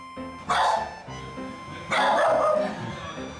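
A small Chihuahua barks twice, close by, with a short pause between the sharp, slightly whiny barks.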